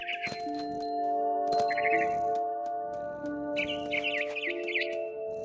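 A mother bird chirping in the video game What Remains of Edith Finch, bright repeated tweets in several short bursts over a sustained tonal music bed, fairly close and clear.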